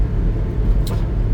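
A Mitsubishi truck cruises in fifth gear at about 80 kilometres per hour, a steady low engine and road rumble heard close and continuous from inside the cab, with no talk.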